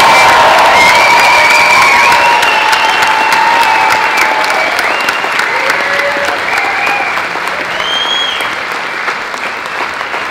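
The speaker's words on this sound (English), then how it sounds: "the biggest, loudest cheer, applause, go wild for our 3B nurses" A large crowd at a gold ball gives loud, sustained cheering and applause for nurses, with whoops and shouts rising above dense clapping throughout.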